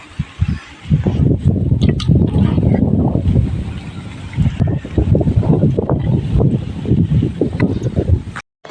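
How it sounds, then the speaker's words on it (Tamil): Strong, cool wind gusts across a rural village field of young rice paddy, roaring steadily and close into the microphone with buffeting rumble for most of the stretch, with no talk over it. "காற்று வர நல்லா அடிக்குது சிலு சிலுன்னு"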